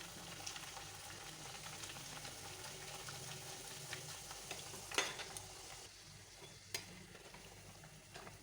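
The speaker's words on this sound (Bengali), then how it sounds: "এরকম করে সব লুচিগুলোকে আমি ভেজে নেব" Sweet potato luchi deep-frying in hot oil, giving a steady close sizzle and bubbling throughout, with a couple of sharper clinks or splashes near the middle and toward the end.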